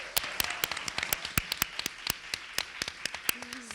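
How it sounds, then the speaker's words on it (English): Sparse clapping from a small audience at a Women's Equality Day event, distinct individual claps close by, with a brief voice near the end. "Let's give her another round of applause."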